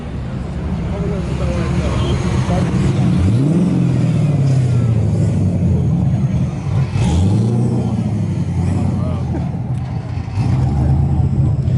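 A powerful LS3-swapped Nissan 350Z autocross car engine with a big cam revs hard in three rising bursts, roaring loudly over steady road and crowd noise.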